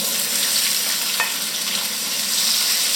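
Ratatouille vegetables browning slowly in a pan over moderate heat: a steady, close, even frying hiss that runs unbroken, with a faint tap or two from the pan partway through.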